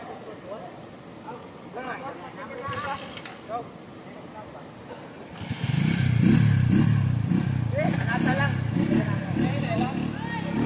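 A motorcycle engine starts up partway through on a flooded rural farm track, a loud close rumbling idle that continues to the end after quieter talk and background noise.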